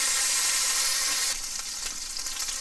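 Chicken sizzling and frying in a pan for a creamy mushroom chicken dish, a steady bright hiss that drops somewhat in loudness partway through and continues with soft crackles, no voices.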